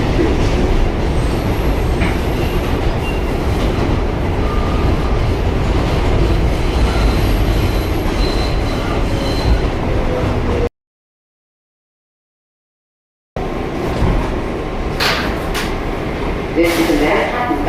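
A Manhattan-bound New York subway 7 local train rumbling loudly close by, with steady wheel roar, squeals and clatter, a brief gap, then more rattling movement, with an automated announcement voice over it.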